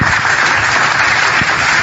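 A religious debate audience claps together in a dense, continuous burst, loud and close, with no voices over it.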